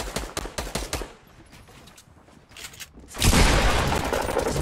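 Fortnite gunfire pops in a quick string of sharp shots, then a loud sustained roar of blasts and noise takes over toward the end.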